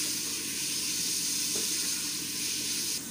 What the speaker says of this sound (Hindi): चिकन को हम अच्छी तरह कुक करेंगे ताकि वो अच्छी तरह से कुक हो जाए